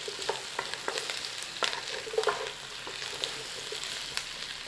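Potatoes, onions and garlic frying gently in butter over a low flame, a soft steady sizzle broken by scattered crackles and the clack of stirring, close and fairly quiet with no talk.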